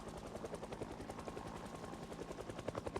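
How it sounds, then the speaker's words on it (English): A helicopter in Project Zomboid thumps steadily overhead, its rotor chop a rapid, even pulse at moderate distance with no voices. "because the chopper's overhead"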